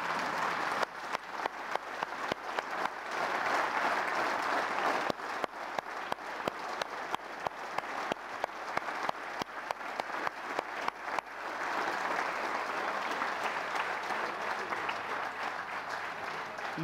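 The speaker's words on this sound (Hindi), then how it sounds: "मैं चाहूँगा कि सदन एक बार खड़ा होकर तालियां बजाकर उनका अभिवादन करें।" Members of the Lok Sabha, India's lower house of parliament, stand and give sustained applause, a dense roar of clapping that holds steady, briefly dips, then swells again, filling the chamber with no speech over it.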